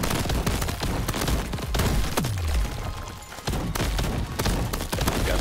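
Rocket launcher fire in the video game Crab Champions: rapid, dense bursts of loud explosive booms and thuds roll almost continuously, with a falling whooshing streak midway and a brief lull before the barrage resumes.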